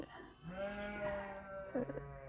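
Young lambs on a farm bleat in drawn-out, wavering calls, one after another, close by and clear against a quiet background.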